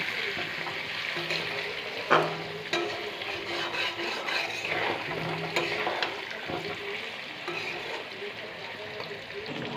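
Potatoes fry in a pan with salt as they are stirred, a steady sizzle and scraping that runs the whole time, with an occasional clink of the utensil.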